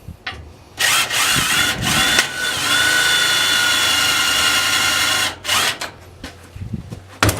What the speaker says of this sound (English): get your drill and drill your hole in the metal